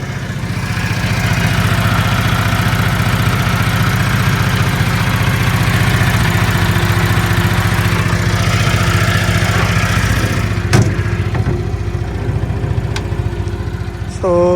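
A Denyo 140GSS engine welder idles steadily and fairly quietly, its low, even drone continuing unbroken throughout, with a few faint clanks near the end.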